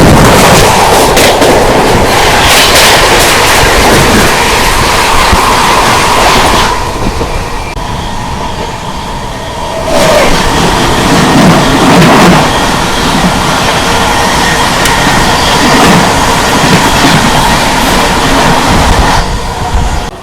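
The Sampoorn Kranti Express rolls at speed, with a loud continuous rumble and wheel clatter, while the Patna Tejas Rajdhani Express rushes past in the opposite direction, then the steady running noise of the moving train resumes.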